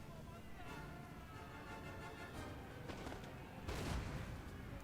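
Distant cannons and rifle fire crackle in a strategy video game battle at a fort, scattered shots building to a louder burst of volley fire near the end, with soldiers talking underneath.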